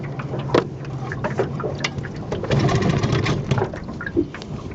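A 1940 Bendix Eclipse outboard motor being restarted, with a close mechanical pull-start clatter and sputtering, uneven engine bursts that rise and fall rather than settling into a steady run.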